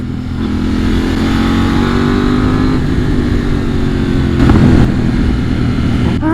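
A new motorcycle on a test ride accelerates in third gear, its engine drone rising steadily in pitch with loud, close wind rumble throughout.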